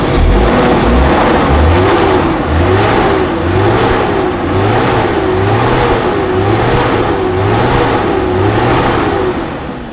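A car engine revs in rhythmic repeated throttle blips while its radiator coolant circulation is checked, loud and close with a pulsing rise and fall roughly every second.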